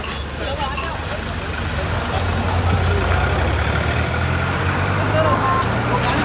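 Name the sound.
truck being driven out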